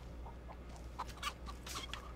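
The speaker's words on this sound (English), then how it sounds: "Uh oh, chickens are making noise." Chickens in The Texas Chain Saw Massacre video game, giving faint, soft clucks and short squawks scattered over a quiet low background hum.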